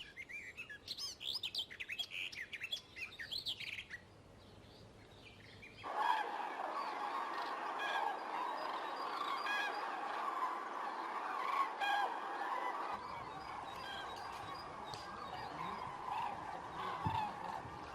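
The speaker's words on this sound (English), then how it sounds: "As the cranes take flight over Sologne, we know that autumn is in full flow." Cranes call in bird vocalizations over Sologne in autumn as they take flight, with chirping cries that fade into a steady, distant wash of sound.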